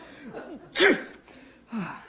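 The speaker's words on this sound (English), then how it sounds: "And now you're ready to sneeze." A single sharp sneeze bursts out mid-clip, surrounded by short breathy sounds and a brief voiced gasp.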